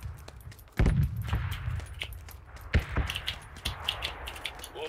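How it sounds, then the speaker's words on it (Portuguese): Several sharp SKS rifle shots from a video game crack out irregularly, some near and loud, others more distant, amid background rumble and clatter. "Opa, tiro de SKS, você ouviu, Dog?"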